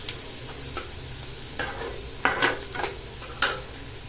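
Sautéing in a pan with turmeric added while cooking egg rice: soft background sizzle with several scraping stir strokes and one sharp utensil clink near the end, moderately quiet and close, no voices.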